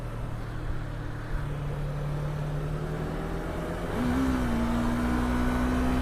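A Yamaha R25 motorcycle engine hums steadily, then revs up with a rising pitch as it accelerates into road traffic, close and fairly loud.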